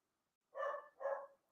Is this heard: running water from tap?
no